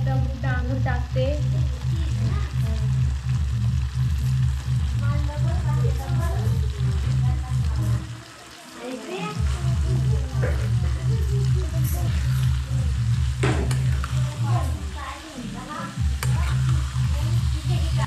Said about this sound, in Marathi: वाटण शिजून घेते थोडंसं आणि मग डांगर टाकते.